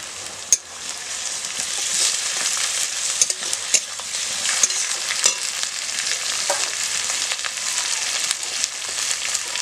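Shrimp frying in a pan with vegetables, a loud continuous bright sizzle close by with occasional stirring knocks and scrapes, no voices.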